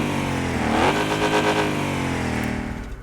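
A Hellcat engine in the Car Parking video game revving hard and loud, its pitch climbing then holding in a sustained roar for about three seconds before easing off slightly.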